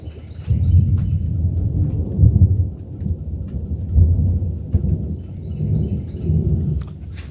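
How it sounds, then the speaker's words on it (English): Thunder from a lightning storm just outside in Florida, heavy rolling rumbles repeating through steady rain, loud and near, with no voices. "lightning just flashed. Like, right outside, like maybe 10 feet from where I am"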